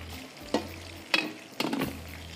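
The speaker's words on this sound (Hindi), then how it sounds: "यहाँ पर हमारे नगट्स भी फ्राई हो रहे हैं।" Chicken nuggets fry in shallow oil in a pan, giving a steady low sizzle broken by three louder bursts of stirring or turning, close and fairly loud with no voices.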